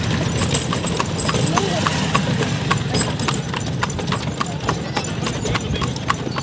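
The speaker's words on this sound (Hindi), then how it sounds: "ये घोड़ा जाता है।" Horse hooves clip-clop in a brisk, steady rhythm as the horse pulls a tonga cart along a street, close and clear, with people talking over the hoofbeats.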